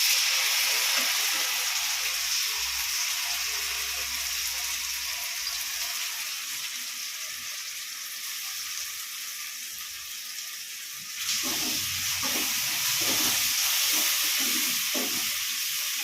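Blended tomato paste from two large tomatoes fries in a pan for garlic kuzhambu, giving a loud, steady sizzle and hiss close by, with a brief stir that sharpens the frying about two-thirds through.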